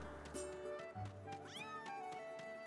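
Cat meowing in the video game The Legend of Zelda: Skyward Sword HD. A short, close meow rises above steady game music and ambience.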